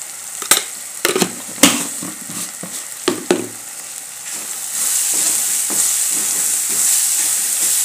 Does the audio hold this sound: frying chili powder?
yes